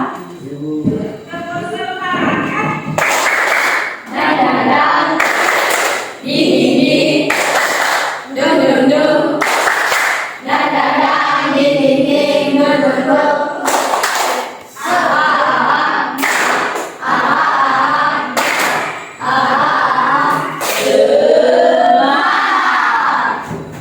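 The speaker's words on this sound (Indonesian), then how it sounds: "Nah, kita tepuk semangat ya." A group of students in a Christian religion class doing a rhythmic spirit clap, loud bursts of patterned clapping and chanting voices alternating in repeated rounds.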